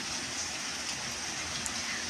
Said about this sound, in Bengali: চারিদিকে অন্ধকার, তার সাথে বৃষ্টি।